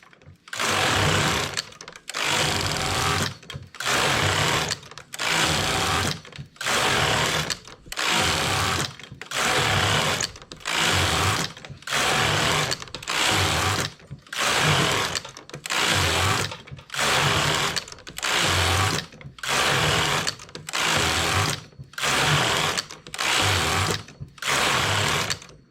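A domestic knitting machine fitted with a ribber, knitting 1x1 rib rows with all needles working, its carriage sweeping back and forth in steady, evenly spaced passes, each a loud rushing whir separated by brief pauses, with no talking.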